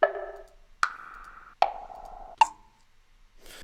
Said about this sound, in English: and wood blocks.